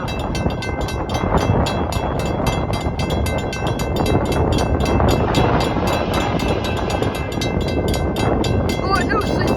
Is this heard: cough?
no